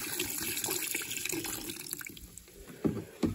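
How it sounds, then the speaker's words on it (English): CLR cleaner is poured steadily into a carburetor from a 1962 Mercury Monterey wagon to submerge it, a continuous close liquid splash and gurgle that thins out near the end, with a couple of brief knocks at the finish. "I'm just gonna fill it up with CLR"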